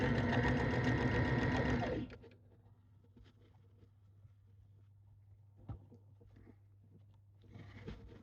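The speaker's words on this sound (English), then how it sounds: "I used to be a girl that didn't want a sewing machine" A sewing machine stitching fabric for trousers runs fast and loud for about two seconds, then stops, leaving a low hum and small handling noises.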